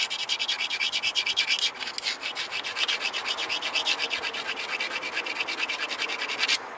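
Green obsidian is ground against an abrasive in rapid, steady rasping strokes during flintknapping, a close, continuous scraping rhythm with no speech.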